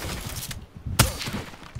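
A short burst of gunfire in Black Ops 3, with one sharp loud shot standing out among clattering, busy game noise, and no talking.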